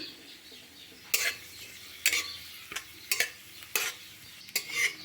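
Nigella seeds and small pieces of dried red chilli frying in hot mustard oil, with a soft sizzle under repeated sharp scrapes of a spoon stirring the pan, about five strokes at roughly one-second intervals.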